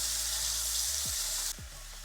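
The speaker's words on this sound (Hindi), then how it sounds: "चलाते हुए इसको सौते करेंगे" A tomato, garlic and onion masala sautéing in a hot pan, a loud steady sizzle close by with a few soft scraping stirs, and the hiss dropping slightly near the end.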